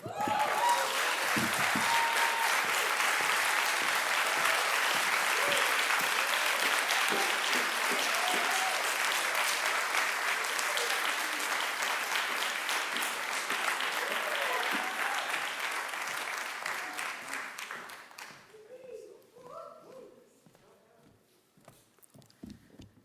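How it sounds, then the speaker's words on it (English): Sustained audience applause fills a hall at a poetry celebration, loud and dense for most of the span before thinning into scattered claps and fading near the end. "Give him another round of applause, y'all."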